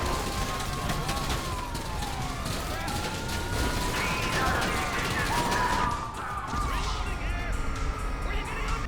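Police in GTA 5 Online fire on the player in a dense, chaotic mix of scattered gunshots and overlapping wailing sirens that runs throughout.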